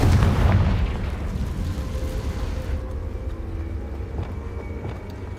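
The Confringo fire spell in Hogwarts Legacy detonates in a heavy, rumbling boom that hits hard at the start and then decays slowly into a low, fading roar.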